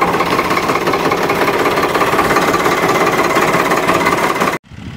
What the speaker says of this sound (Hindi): तो भैया जी ने हमारा ट्रैक्टर स्टार्ट कर दिया है।